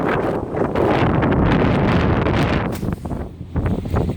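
Cold, gusty wind blows during an outdoor metal-detecting session, buffeting the microphone in loud rumbling surges that ease briefly near the end before picking up again.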